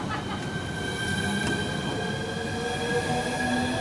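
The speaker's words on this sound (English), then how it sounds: "Now about to leave off platform 2 at Stratford International, 395018." A Southeastern Class 395 high-speed electric train, unit 395018, pulls away from platform 2 at Stratford International on HS1. It makes a steady rolling rumble topped with thin, sustained wheel-squeal tones and faint clicks over nearly four seconds.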